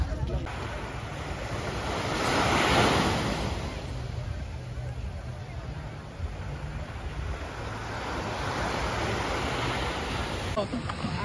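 Sea waves break on a Barcelona beach in a continuous wash of surf mixed with gusty wind rumble, swelling louder for a moment early on and then settling into a steady roar.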